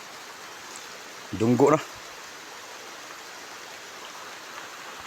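Light rain drizzles outdoors as a steady, soft hiss throughout, with a person speaking briefly over it.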